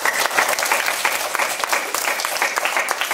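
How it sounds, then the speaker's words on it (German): Applause from a group, likely children, at a small event: steady, dense clapping that holds at an even level throughout. "Applaus"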